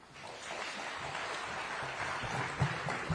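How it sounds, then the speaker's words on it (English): A distant crowd applauds at a state house environment day celebration, a steady, soft wash of clapping heard from afar with no clear voices. "Once more, a clap of applause for Elizabeth"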